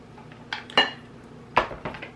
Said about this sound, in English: go ahead and mix all of your fruits and vegetables up together